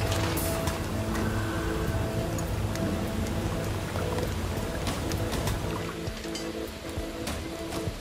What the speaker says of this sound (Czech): Zase prší.